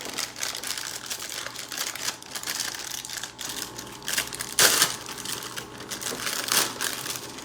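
Chocolate rice cakes pulled from their plastic bag, close crinkling and rustling of packaging with a few sharper crackles and one loud crunch midway.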